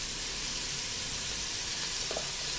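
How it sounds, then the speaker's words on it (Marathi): Chopped onion fries with salt in a pan for Nashik-style misal, giving a steady, even sizzle with no breaks, moderately loud and heard alone. "हे बघा, याच्यामध्ये कांदा टाकलाय आणि हा कांदा छान सोनेरी होईपर्यंत परतायचा"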